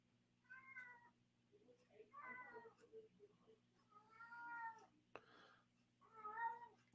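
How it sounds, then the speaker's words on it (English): Peanut, a house cat, meows repeatedly at night, four drawn-out cries with short pauses between them, fairly close over a low electrical hum. "loves to do this thing at night that he meows a lot for no reason"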